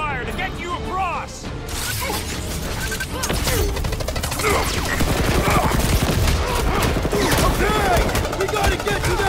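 Sustained gunfire and blaster shots in the Guardians of the Galaxy video game, dense rapid bursts with mechanical clatter and crashes throughout, with characters talking over the battle.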